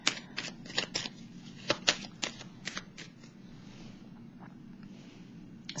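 A deck of tarot cards is shuffled in several quick riffling bursts during the first three seconds, then the sound settles into a quieter, soft hiss.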